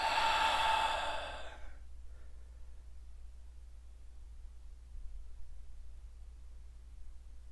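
A single deep exhale during a guided breathing exercise, a broad breathy rush lasting about a second at the start, then near silence with only a low steady hum.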